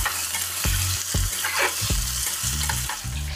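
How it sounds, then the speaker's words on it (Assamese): Boiled pork frying with already fried onions for Khasi jadoh, a steady loud sizzle broken by repeated scraping stirs of a spoon against the pan, close up, with no talking. "মাংসখিনি মই বইল কৰি থৈছিলো এতিয়া অলপ ভাজি লম"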